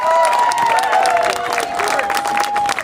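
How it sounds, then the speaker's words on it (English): A crowd at an outdoor veterans rally applauds and cheers, with dense, loud clapping sustained throughout and whoops and shouting voices layered on top. "Let's give a round of applause"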